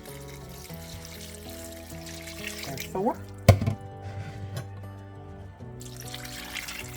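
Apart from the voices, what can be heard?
water being poured into a crockpot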